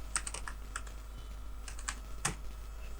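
Keys clatter on a computer keyboard in short, irregular bursts of typing separated by brief pauses, with a low steady hum underneath and no talking.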